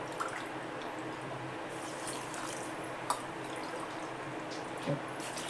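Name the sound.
pouring water into a pot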